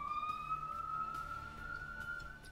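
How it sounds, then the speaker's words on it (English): A loud, steady electronic siren wails with a sustained high tone in The Binding of Isaac: Afterbirth+, droning on alone without talk. "It's a very loud siren"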